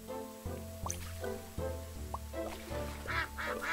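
Soft cartoonish duck quacks with watery drips and squishy pops from the cozy game Capybara Spa, several short plinks and bubbly sounds over a gentle steady music bed, with no voices.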